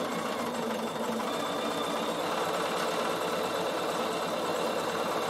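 A Bernina sewing machine stitching a couching stitch on fabric, wool felting for a door stop, running in a fast, steady, continuous mechanical whir close up.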